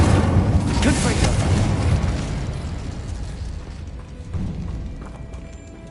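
Confringo blasting spell going off in Hogwarts Legacy, a loud crackling explosion that rumbles and slowly decays, followed by a smaller secondary thump, with a voice speaking partway through.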